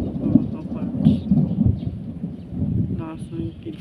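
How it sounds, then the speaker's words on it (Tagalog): Thunder from nearby lightning rumbles low and heavy through the whole stretch, a rolling continuous growl with wind noise, while voices talk over it. "Lakas ng kidlat."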